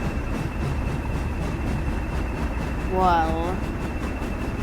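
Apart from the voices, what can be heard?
diesel train moving in a video game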